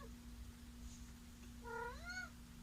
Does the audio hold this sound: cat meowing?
yes